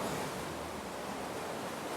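Ocean waves wash against a sea cave on the Central Java coast, making a steady, dense roar of surf that fills the whole stretch. It is fairly faint and continuous, with no voices.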